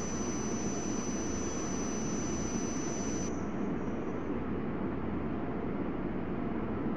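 Steady, loud jet engine roar of an airliner taking off at Frankfurt in the Tower! 2011 air traffic control game. The roar runs continuously with a thin high whine that cuts out partway through.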